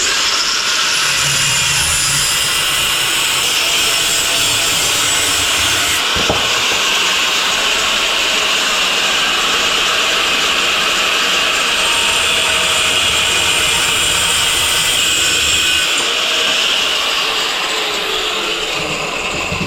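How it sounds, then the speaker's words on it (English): An angle grinder cuts down a metal pipe during work on a fuel-injected BMW E30 2.8, giving a loud, continuous high-pitched whine and rasp that holds steady for the whole stretch, with a brief dip and change partway through. "So let's just get this pipe cut down. Time for the angle grinder."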